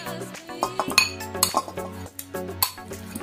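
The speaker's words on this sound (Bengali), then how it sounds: "প্রথমে দিয়ে দিচ্ছি কুকারে তেলটা তারপর আমি মটনগুলোকে সব দিয়ে দিচ্ছি" Oil and pieces of mutton going into a pressure cooker on a gas stove, heard as a run of clanking metal and clinking utensil knocks at an irregular rhythm, close and fairly loud, with no talking.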